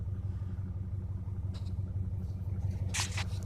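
A BMW M52 six-cylinder engine idling after a cold start, a steady low rumbling hum that holds even and close throughout, with a few faint light clicks and rustles over it.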